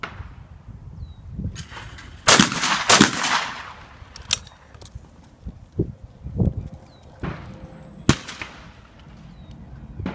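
Shotgun blasts at American skeet targets on a shooting field, several sharp loud cracks spaced irregularly with softer clatter and movement between them, no talking.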